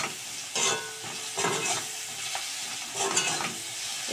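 Small prawns with okra, poppy seed and coconut sizzling in a pan with salt and turmeric, a steady hiss broken by bursts of stirring and scraping at irregular intervals.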